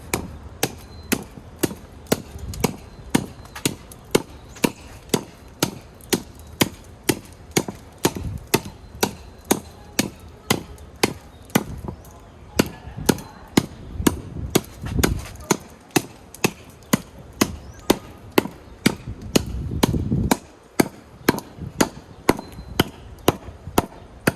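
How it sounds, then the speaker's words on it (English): Wooden pieces snapped and chopped off a chair during hand woodcarving, a steady run of sharp, close knocks repeating about once a second, with a few louder, heavier blows. "I try going the other way and break these off."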